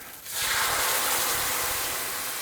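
Spicy shrimp fra diavolo sauce hits a hot pan of shrimp, erupting into a loud, sudden sizzle that holds as a dense, steady hiss.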